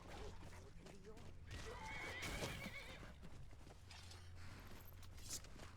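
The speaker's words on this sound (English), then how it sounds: "Is that a wild horse?" A horse whinnies loudly amid clip-clopping hooves in the video game Skyrim (Nolvus modlist), with a steady low rumble in the background and faint voices mixed in.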